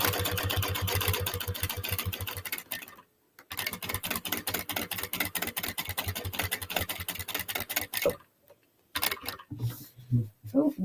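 A sewing machine top stitches a fold-over clutch bag at a long stitch length, running in fast steady rhythmic bursts with brief stops between runs, close and clear.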